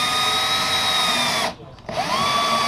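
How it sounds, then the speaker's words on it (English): A power drill drives screws into a window on a small 4x8 camper, giving a steady loud whine that cuts out briefly in the middle, then resumes. "then you come in with your screws, and you don't want to ram it all the way in"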